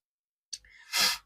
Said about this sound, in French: j'arrêtais pas d'éternuer